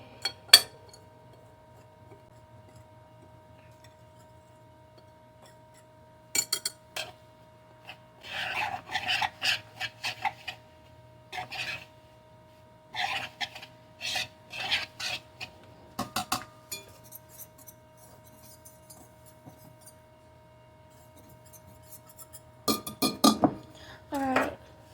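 Scattered bursts of scraping and clinking as almond flour and dry ingredients are stirred together in a bowl with a utensil, separated by quiet stretches.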